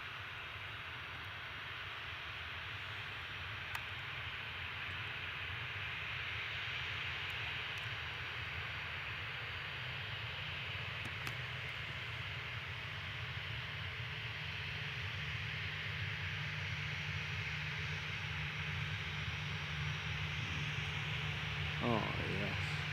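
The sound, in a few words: FedEx Boeing 737 cargo plane rolling down runway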